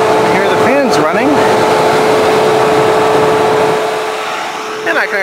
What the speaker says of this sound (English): I hear the fans running.